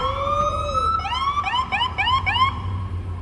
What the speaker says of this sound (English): We'll wait for the ambulance to go by.